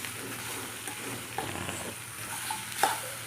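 Turmeric and garam masala frying briefly in hot oil in a pan for snake gourd sambar, a soft continuous sizzle with a few spoon stirs and a sharper clink near the end.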